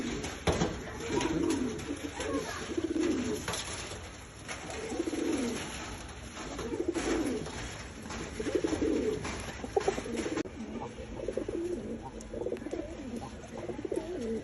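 Oman teddy pigeons coo in repeated low, rolling phrases, fairly close, with a steady hiss of background noise throughout.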